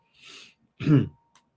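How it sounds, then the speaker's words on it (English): A single harsh cough bursts out nearby after a short breathy exhale, followed by a brief click and quiet. "this cough is insane"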